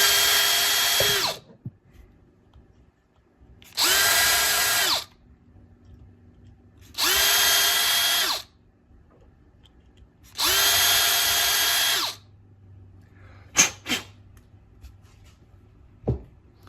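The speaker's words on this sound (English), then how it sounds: "just drill out these holes" Four sustained bursts of a power drill with a 5/64 bit drilling holes in a 1/64 scale model truck, each a second or two long, separated by quiet pauses, followed by a couple of sharp clicks.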